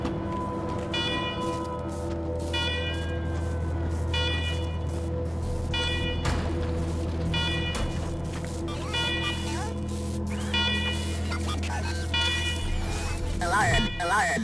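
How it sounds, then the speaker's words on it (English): Repeating electronic alarms blaring in a secure government facility in the video game Wasteland 3, a steady pulsing beep pattern over a low hum, with a voice speaking across it. "let's talk after you kill the alarms. I can hardly hear myself think."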